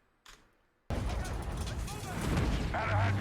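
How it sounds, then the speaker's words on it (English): In Modern Warfare 2 gameplay, a sudden heavy boom bursts in after a brief quiet moment, followed by sustained rumbling blasts and crackling debris, loud and close. "the sound effects of the explosions are much different"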